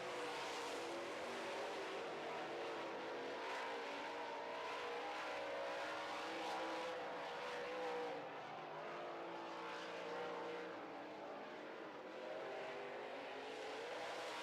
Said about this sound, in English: Three to go for race leader Ricky Weiss in the 7W.